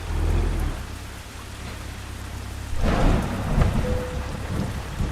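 Rain pours steadily in a truck driving video game, with a loud rumbling thunderclap breaking in partway through over the constant downpour.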